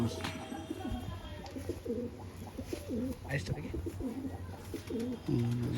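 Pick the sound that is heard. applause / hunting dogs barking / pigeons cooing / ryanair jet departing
pigeons cooing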